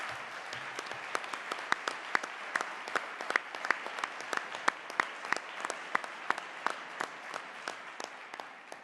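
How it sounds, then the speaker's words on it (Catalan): An audience applauds at the closing of a congress: dense, sustained clapping from a large crowd, steady throughout with sharp individual claps standing out. "Jo crec que també es mereixerien un bon i fort aplaudiment"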